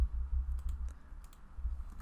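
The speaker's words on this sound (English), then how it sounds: "I'm typing Windows, come on." Faint, scattered clicks of typing on a computer keyboard, a handful of light irregular keystrokes over a low steady hum, with no talk.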